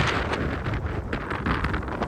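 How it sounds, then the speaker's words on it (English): Strong wind gusting across an icy commercial parking lot, buffeting the microphone in a rough, fluttering roar with uneven bursts from start to finish. "I don't know if you can tell, but it's still really windy"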